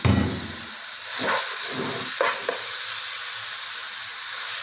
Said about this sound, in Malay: Saute kita punya mirepoix ni.